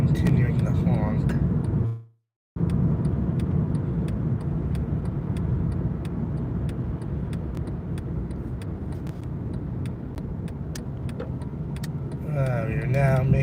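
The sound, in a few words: car driving and turning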